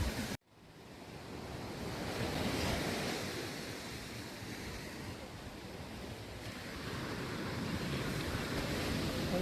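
Ocean surf rolls onto the sand at Playa Las Gemelas beach in Puerto Vallarta, a loud continuous wash of breaking waves with wind rushing over the microphone.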